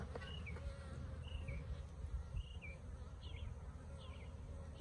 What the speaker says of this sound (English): Oh, this bee's giving me flack.